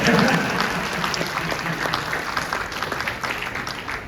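Audience applause at a formal speech event with a guest of honor, a steady dense crackle of many hands clapping at moderate loudness, with a voice talking over it.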